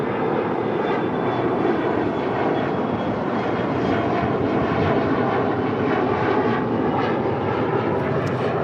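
A Boeing 787-8 Dreamliner arriving from Tokyo Haneda makes a steady, broad jet roar that holds at an even level throughout, with no voices over it.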